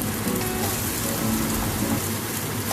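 Butternut squash sautéing with garlic and onion gives off a dense, steady, close sizzle and crackle of frying that fills the whole stretch at an even loudness, with no talk.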